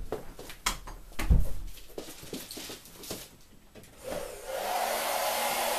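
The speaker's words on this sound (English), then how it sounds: "I'm going to blow dry it with a blow dryer just so you can see how it looks." A blow dryer runs over freshly applied Firenzecolor Venetian plaster, a Marmorino KS base coat with Fine and lime on top, its steady airy whir rising after four seconds and continuing close and loud after some scattered handling sounds.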